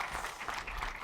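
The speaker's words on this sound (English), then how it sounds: "Give her a round of applause." Audience applause for a speaker coming on stage at a startup conference, a dense, steady wash of clapping from a crowd, filling the whole second at even loudness.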